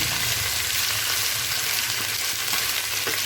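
Chicken with garlic ginger paste fries loudly and steadily in a pan, a dense continuous sizzle close up with faint stirring, no voices present.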